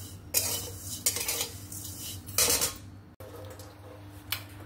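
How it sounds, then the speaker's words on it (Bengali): Vermicelli is fried in a pan while a metal utensil scrapes and clinks against it in repeated bursts. The sound is close and steady, with a light background hiss and no talking. "এই জন্য সেমাইটাকে আমি একটু ভেজে নিব।"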